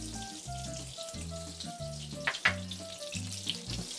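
Butter and oil sizzle on a hot griddle with a steady frying hiss under a looping low tonal background, with a couple of sharper crackles near the middle.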